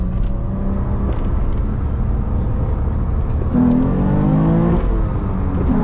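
A six-speed car accelerates hard from close by, and its engine note climbs in first gear. After a brief break for the shift into second, the rising harmonic whine starts again and stays loud and steady.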